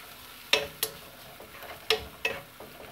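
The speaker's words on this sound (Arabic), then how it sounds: "درت شويه واحد نص فلفله حاره مع البصل ودرتها في هذا الزيت" Onion and half a hot pepper frying in oil, with a low, soft sizzle underneath several sharp clinks and scrapes of a utensil stirring the pan at uneven intervals, and no talking.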